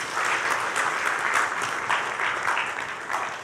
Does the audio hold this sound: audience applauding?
yes